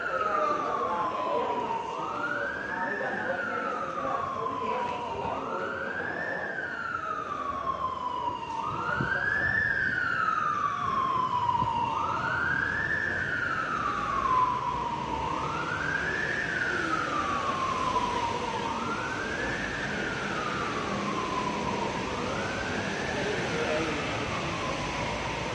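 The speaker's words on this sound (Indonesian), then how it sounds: "Ambulan." An ambulance siren wails, rising and falling in a steady repeating sweep over continuous traffic noise, loud and close, running throughout.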